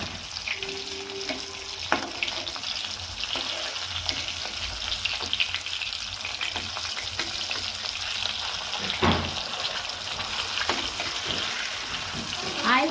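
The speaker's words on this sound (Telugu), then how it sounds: "ఒక 5 మినిట్స్ తర్వాత అండి చేపని మళ్ళీ ఇంకో సైడ్కి తిప్పుకుంటున్నాను." Fish frying in a little oil in a pan, turned over to cook the other side, a steady close crackling sizzle with a few sharp pops and utensil clicks running throughout.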